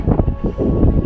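Steady wind blowing across an ice fishing reservoir at Chain Lakes, a loud continuous rush buffeting the microphone with no voices.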